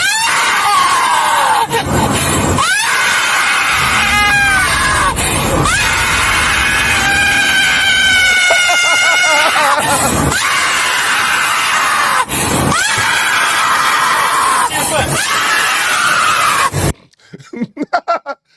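A woman screams loudly and almost continuously during a police traffic stop, long piercing wails broken by gasps, close and harsh, with scuffling and an officer's voice in the background.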